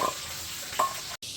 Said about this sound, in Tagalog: Prituin pa natin lahat to.